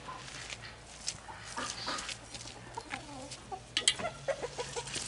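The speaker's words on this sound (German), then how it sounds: "Hahn, beruhig dich." A rooster clucks in a garden chicken run, a run of close, loud, repeated clucks near the end over low background noise, with no talking.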